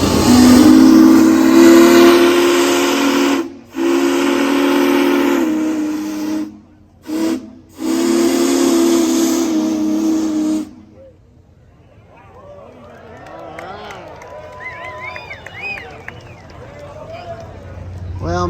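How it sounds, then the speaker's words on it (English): The whistle of Big Boy, the world's largest steam locomotive, sounds in loud, piercing, chord-like blasts broken by short gaps. It then stops, leaving a crowd chattering nearby. "Dinah, won't you blow that horn?"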